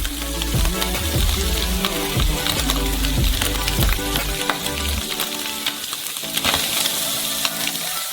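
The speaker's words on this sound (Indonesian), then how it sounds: "Dan sudah menggoreng semua sayuran kita di atasnya." Vegetables fry in a pan with a loud, continuous sizzle and crackle, along with occasional stirring clatter.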